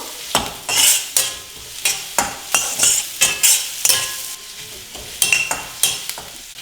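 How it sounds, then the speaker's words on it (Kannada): Finely chopped medium onion and green chili sizzle in a pan for street-style veg noodles, stirred with a spoon in rhythmic scraping strokes about twice a second, close and fairly loud. "ಒಂದು ಮೀಡಿಯಂ ಸೈಜ್ ಈರುಳ್ಳಿನ ಸಣ್ಣದಾಗಿ ಕಟ್ ಮಾಡಿಬಿಟ್ಟು ಹಾಕ್ತಾ ಇದ್ದೀನಿ ಇದೆಲ್ಲವೂ ಹಾಕಿಬಿಟ್ಟು ಮಿಕ್ಸ್ ಮಾಡ್ಕೋಬೇಕು"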